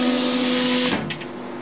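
An HP Designjet Z3200 large-format printer printing a test page gives a steady motor whine with tonal hums, then a mechanical clunk and a few short whirring sounds as the mechanism shifts, close and fairly loud.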